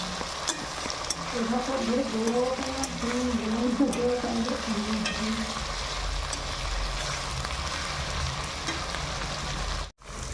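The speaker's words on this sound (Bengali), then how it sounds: "এখন ভালো করে কষানো চলছে আদা আর রসুন বাটা" Ginger and garlic paste frying in a pan give a continuous sizzle and scraping stir, while a voice is heard faintly in the background during the first half; the sound cuts out briefly near the end.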